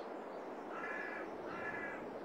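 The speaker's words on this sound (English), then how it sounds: "The different farms have different birds." Crow cawing on a farm map in a video game, two drawn-out caws in sequence over a steady ambient background.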